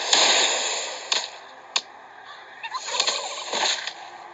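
A turkey in the survival video game Last Day On Earth gobbles in several short bursts, with a couple of sharp game clicks or hits between them, heard fairly clearly.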